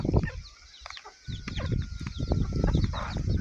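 A flock of chickens clucks and squawks in a busy, overlapping jumble, fairly close, with a brief lull early on.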